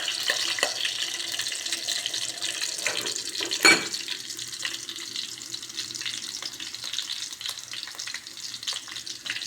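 Onions sauté gently in a pan before bitter gourd goes in, a soft continuous frying crackle with scattered ticks and one louder clatter of a utensil, fairly quiet and close, no voices.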